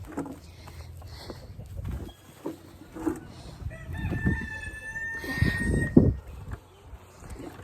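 Free-range chickens out in a yard, with a rooster crowing midway amid scattered clucks and soft outdoor background noise.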